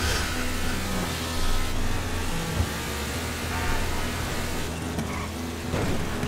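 A car driving in GTA V, its engine droning steadily at mid pitch with a brief revving swell, loud and continuous, with no talk over it.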